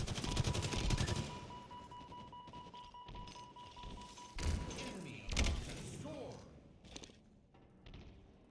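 In a Halo capture-the-flag match, a grenade bursts with a dull thud and scattered gunfire crackles around it, all at moderate volume with game effects and movement sounds in between.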